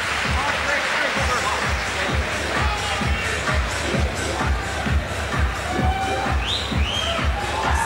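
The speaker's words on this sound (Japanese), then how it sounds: "大きな拍手が湧き上がっています" Crowd at a kickboxing match between Maurice Smith and Jörgen Kruth applauding, a broad roar of clapping and noise under fast excited commentary, with rhythmic thuds running through.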